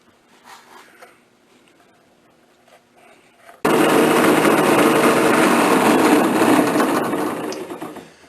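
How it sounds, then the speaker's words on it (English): A bench grinder grinds down the edge of a printed circuit board from a Tecumseh/ESKA ignition module. Near and loud, it holds a harsh, steady grinding after a few seconds of quiet handling noises, then tapers off at the end. "I'm going to start out with a bench grinder, removing as much as I can"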